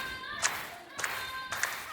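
A wrestler's few sharp hand claps ring out, spaced roughly half a second apart, over a busy, noisy wrestling match background.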